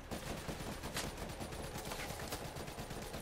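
Continuous rapid gunfire in the video game Call of Duty zombies map Shadows of Evil, a dense unbroken stream of shots at steady loudness throughout.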